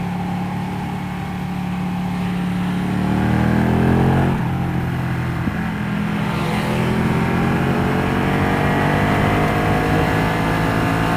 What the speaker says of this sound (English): that bike revs for days